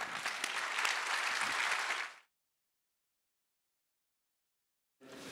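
Film festival audience applause, a dense burst of clapping for about two seconds that cuts to silence, then resumes briefly at the end.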